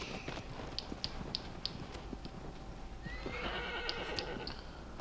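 Horse in the video game Shadow of the Colossus neighing and whinnying, with steady clip-clop hooves running throughout and a second whinny near the end, fairly close and continuous.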